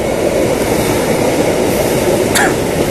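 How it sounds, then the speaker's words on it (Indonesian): An electric commuter train in Jakarta rumbles steadily close by, a continuous broadband roar with a brief high squeal near the end. "Oh, ada kereta nih."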